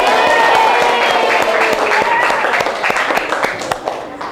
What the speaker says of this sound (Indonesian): Tepuk tangan dulu sama kelompok 5.